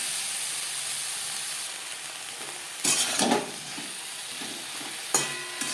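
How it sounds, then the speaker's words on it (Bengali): Vegetables lightly frying with salt and turmeric for a bitter-vegetable tetor jhol, a steady close sizzle with a few sharper stirring scrapes and bursts of hiss; no talking. "লবণ হলুদ দিয়ে সবজি হালকা করে ভেজে নেব"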